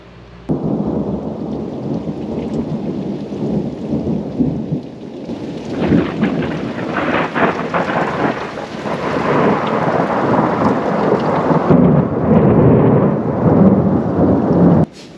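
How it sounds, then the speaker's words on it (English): A thunderstorm during RV travel between Texas and Arkansas: steady heavy rain with deep rolling thunder that builds and swells, loud and continuous, filling the scene with no one talking. "Man, it feels like forever since we've had a thunderstorm."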